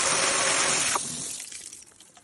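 Water rushing through an STF Ebro automatic 3-inch screen filter during backwash, a loud broadband gush that cuts off abruptly about a second in and leaves a fainter trickling flow.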